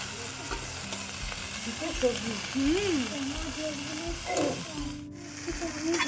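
Spiced chorchori being stirred and fried in a pan, with a steady close sizzle under repeated scraping strokes of a spatula and a brief hiss near the end.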